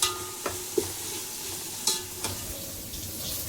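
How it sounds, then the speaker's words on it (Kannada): Onions fry in a pan while being stirred, a constant bright sizzle with a few sharp scraping knocks of the spoon, close up with no speech. "ಈರುಳ್ಳಿ ಚೆನ್ನಾಗಿ ಫ್ರೈ ಆಯಿತು. ಮಿಕ್ಸ್ ಮಾಡುವ. ಇದು ಹಸಿ ವಾಸನೆ ಹೋಗುವವರೆಗೆ ಹುರಿಬೇಕು."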